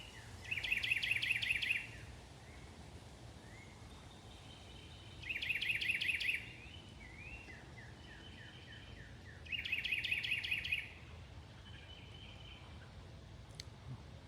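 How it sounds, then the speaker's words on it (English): Birds singing in a wooded creek area, three bright trilling bursts of song spaced a few seconds apart over a quiet outdoor background. "You hear the birds?"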